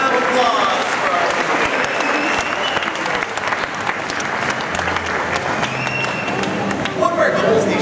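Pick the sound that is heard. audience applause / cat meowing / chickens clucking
audience applause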